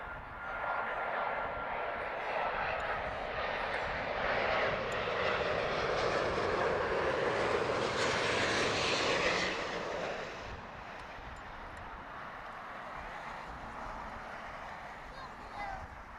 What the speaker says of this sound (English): Beautiful classic A350 arrival, floating it in, no problem at all